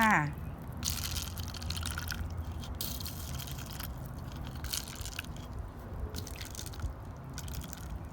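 Water is poured over plant seeds in a container to soak them, with splashes and drips arriving in several short bursts while someone talks throughout.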